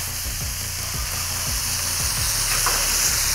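Smash burgers sizzle loudly and steadily on a Halo Elite4B griddle, the close frying hiss continuous throughout, with a series of low rhythmic scraping thumps underneath.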